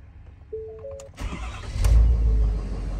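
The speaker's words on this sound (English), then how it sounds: "I'm gonna crank it up here." A 2019 Ford F350 truck engine cranks and starts after a chime from the dash, the starter whirring briefly before the engine catches and settles into a loud, close rumbling idle.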